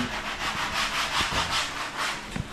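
Rhythmic scratchy strokes of sandpaper rubbing on wood, close up, repeating back and forth at a steady pace with a few light knocks.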